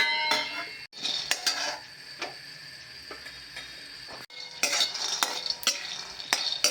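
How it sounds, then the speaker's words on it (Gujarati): Peanuts dry-roasting in a pan for makhana sesame jaggery chikki, stirred with a utensil: close, continuous scraping and rattling of nuts against the metal, with brief pauses between bursts of stirring and no talk. "હવે શિંગદાણા શેકી દઈશું।"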